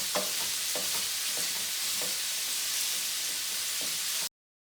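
Ground meat fries in a pan as filling for Italian stuffed rolls, a loud continuous sizzle with a few soft scraping strokes of a utensil breaking it up, before the sound cuts off abruptly.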